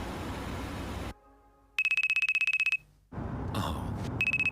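A phone rings in the anime Bungo Stray Dogs with a repeating electronic ringtone: two bursts of rapid pulsed tones, each lasting about a second, separated by other loud scene sounds.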